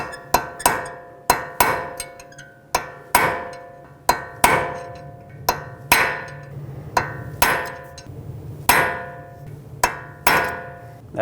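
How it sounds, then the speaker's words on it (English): Sharp, loud metal hammer strikes on a punch, peening over an axle nut on a 2012-2017 Toyota Camry front hub, about twenty hits in irregular bursts with ringing decay, close up with no talk. "So take a punch or a chisel bit and a hammer and just punch it down a little bit."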